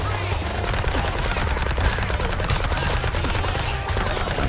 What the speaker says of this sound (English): if I shoot them with the SMG, it takes like 60 ammo to kill them